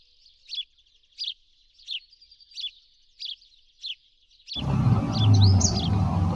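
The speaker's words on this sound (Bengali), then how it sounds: "ছোট্ট ছোট্ট এই চড়াই পাখিরা আজকাল শহরাঞ্চলে অনেকটাই কম দেখা যায়" Small house sparrows chirping in a series of short, sharp calls at a steady pace, fairly clear and close, before a louder burst of broadband background noise takes over.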